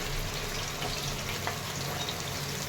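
Green chili and onion sautéing in a pan, a steady soft sizzle and hiss that keeps going without a break and stays fairly quiet.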